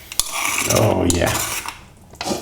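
A spoon stirs parsley and garlic into lamb shanks in a cooking pot, giving close metallic clinks and scrapes in short bursts.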